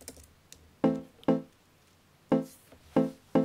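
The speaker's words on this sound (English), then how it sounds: "EQ'd it to really take off all the low end and sort of bring up the high end" Logic Pro Wooden Bells mallet instrument EQ'd brighter with the low end removed: five crisp struck notes in an uneven pattern, each with a sharp attack and quick decay, heard alone after a few faint clicks.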